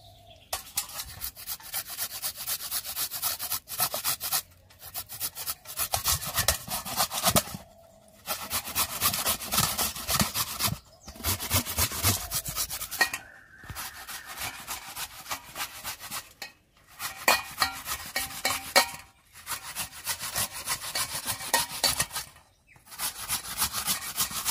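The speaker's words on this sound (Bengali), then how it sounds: "নিয়ে এই ঘষিনিটা দিয়ে ঘষে নেব।" Raw giant taro (maan kochu) is rubbed against a hand grater in repeated runs of quick, rhythmic rasping strokes, each burst separated by short silent pauses, close and fairly loud with no talk.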